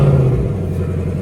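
A 2024 Ford Mustang GT with the 10R80 transmission and stock non-active exhaust starts and settles into a loud, deep, rumbling idle close by, a steady low throb with no voices.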